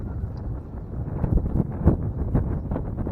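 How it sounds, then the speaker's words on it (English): Steady gusty wind at a campsite with a tent just set up, a continuous low rumbling rush with soft swells, no talking. "the wind will quit blowing. Well, it hasn't quit yet"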